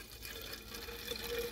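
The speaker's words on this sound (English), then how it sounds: "Pour that fuel in there." Fuel is poured into the canister of a mosquito repellent torch, giving a soft, continuous liquid trickle close by that rises slightly toward the end, with no talking.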